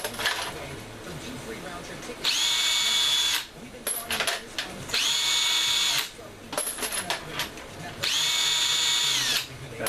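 A power trimmer trims .223 brass cases in three bursts of high whirring spin, each separated by metallic clinks and rattles of brass being handled.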